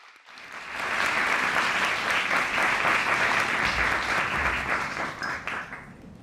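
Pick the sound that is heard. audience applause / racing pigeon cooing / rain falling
audience applause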